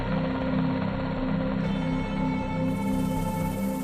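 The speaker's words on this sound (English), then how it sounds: "board an HS-60 Seahawk helicopter and leave NIMITZ" An HS-60 Seahawk helicopter leaving an aircraft carrier, its rotor chopping in a loud, steady rhythmic drone with a pulsing low throb, continuous and close with no voices.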